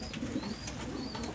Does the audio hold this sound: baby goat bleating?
no